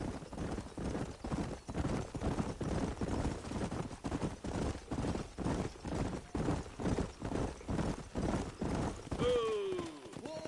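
Several horses' hooves clip-clop in a steady, loud, overlapping rhythm while riding in the video game Red Dead Redemption 2, with a brief whinny near the end and no talk.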